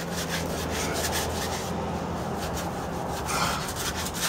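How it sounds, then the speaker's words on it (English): Hand sanding of dried joint compound over a drywall patch, a continuous gritty back-and-forth rasp in steady strokes, loud and close with no speech. "What you wanna do is just sand it back and forth all the way across your line."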